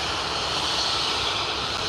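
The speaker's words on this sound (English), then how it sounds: "Ready to roll down 27 for departure, Ryanair to Malaga." A Ryanair jet airliner bound for Malaga rolls for departure on runway 27 at Liverpool Airport, a steady, broad engine roar heard from a distance without pause.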